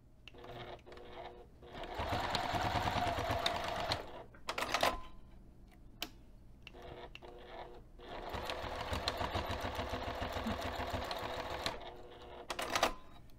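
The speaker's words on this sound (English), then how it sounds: "I'm going to take this over to the sewing machine, and I'm going to stitch 1/8 inch away" A sewing machine stitching fabric runs in two long stitching bursts with a rapid mechanical chatter, separated by short clicks and pauses, close by.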